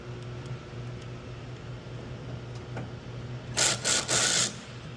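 OEM screws are driven into adjustable splash guards on a 2022+ Nissan Frontier Pro4X. Quiet mechanical clicks come first under a low steady hum, then a louder burst of rapid ratcheting near the end.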